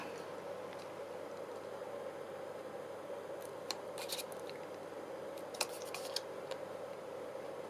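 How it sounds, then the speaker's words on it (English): Scissors trim the corners of paper for a wedding photo folio, a few faint, close snips over a quiet, steady room hum. "I'm just going to trim those corners, I think."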